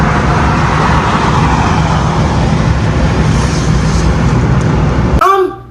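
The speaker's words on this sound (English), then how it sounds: "I'm gonna upload a video here of the truck pulling us." Road noise from a car being towed by a truck forms a loud, steady broadband rumble with wind roar, continuous for about five seconds before cutting off abruptly.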